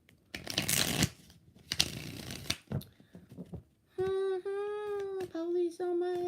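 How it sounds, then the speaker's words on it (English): Tarot cards are riffled and shuffled in a few quick, close rustling bursts, then a sustained tonal voice-like sound takes over near the end. "Last shuffle."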